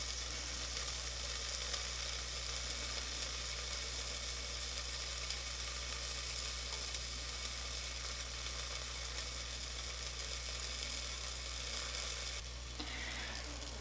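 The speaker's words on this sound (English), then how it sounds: "Sizzle." Chicken parmesan sizzles steadily in an air fryer, with a constant loud hiss and crackle and a low hum underneath throughout.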